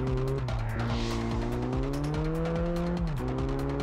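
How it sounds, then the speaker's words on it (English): A car drifts in Test Drive Unlimited on the PS2: a loud, continuous engine drone rises and shifts in pitch under a screeching tire squeal, with no voices over it. "I love drifting in this game"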